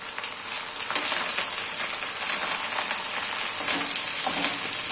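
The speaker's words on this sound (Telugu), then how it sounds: "ఇలా చూపించిన విధంగా కరివేపాకును వేసుకొని వేయించుకోవాలి" Curry leaves frying in hot oil in a pan, giving a steady, dense, close crackling sizzle that holds evenly throughout with no voices.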